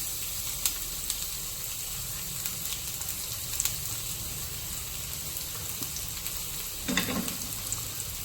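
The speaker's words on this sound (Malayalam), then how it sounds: "ചൂടായ എണ്ണയിലേക്ക് നമുക്ക് ഉള്ളി, പച്ചമുളക് 2ആയി പിളർന്നതും കൂടിയിട്ട് ഇട്ട് കൊടുക്കാം" Sliced onion and split green chillies fry in hot oil in a kitchen, a faint, continuous sizzle with a few sharper crackles and a brief clatter near the end.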